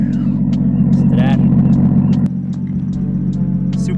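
A Toyota JZX100 Cresta idles with a deep, steady engine rumble close by, the note dropping slightly midway, while a person talks over it.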